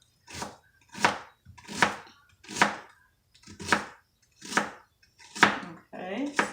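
A knife chopping an onion on a board, seven sharp evenly spaced chops close up, each a crisp thud, with a faster flurry of cuts at the end.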